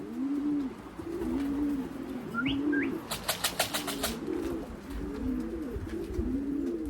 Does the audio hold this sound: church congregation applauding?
no